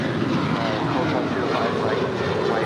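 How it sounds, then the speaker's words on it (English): A Delta Boeing 737-900ER airliner at LAX gives off a loud, steady jet roar with no clear breaks, and a voice talks over it. "this is Delta 953 heading off to Minneapolis. It is a 737-900 ER"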